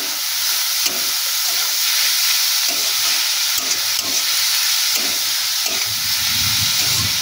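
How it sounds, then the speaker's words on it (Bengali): Pointed gourd (potol) sprinkled with salt frying and being stirred in a pan, a loud, steady close sizzle with intermittent scraping and stirring knocks throughout. "এরকম করে সুন্দর করে আমরা পটলটাকে ভেজে নেব।"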